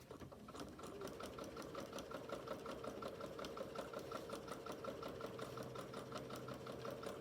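Sewing machine stitching a fabric scrunchie with a fast, steady, even rattle of needle strokes, heard close and fairly faint, beginning after a brief pause and then running on without a break.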